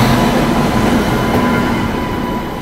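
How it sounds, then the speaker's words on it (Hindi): The Purva Express passes close by as a continuous loud rumble of wheels and carriages, steady throughout with no talking. "मुझे लगता है पूर्वा एक्सप्रेस होनी चाहिए अभी।"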